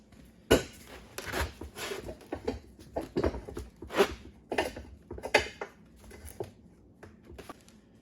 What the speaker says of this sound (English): Now that the bead's broke, we're gonna set the tire onto the stand itself.